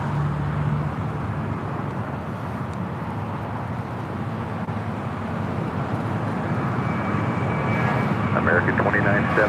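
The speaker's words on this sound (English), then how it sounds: "JetBlue Airways flight 2885 heading to Miami. It's an A321. Now rolling down 25 right." A JetBlue Airways A321 bound for Miami rolls down runway 25 right at LAX, its engines a broad, steady roar that holds loud throughout, with radio chatter faintly over the top.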